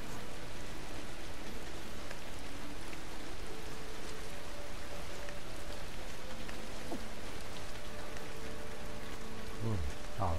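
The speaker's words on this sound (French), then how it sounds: "Oh bah il pleut, super." Dense, steady rain pours in the game Ancestors: The Humankind Odyssey, a loud continuous broadband hiss throughout, with faint tonal game sounds and a brief rising call near the end.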